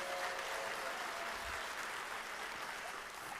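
An audience at a school district Teacher of the Year ceremony applauds in a steady, even wash of clapping from start to finish.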